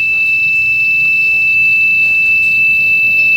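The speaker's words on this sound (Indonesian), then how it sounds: "saat terdeteksi penyusup, maka buzzer dan LED merah akan otomatis menyala" An intruder detector's buzzer alarm sounds a loud, continuous high-pitched electronic tone that holds steadily without a break.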